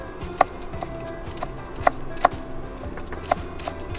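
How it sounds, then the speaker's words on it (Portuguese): A knife taps on a cutting board as fresh coriander is chopped for a monkfish cataplana, giving light, irregular chops over a steady kitchen background. "juntar um bocadinho de coentros picados"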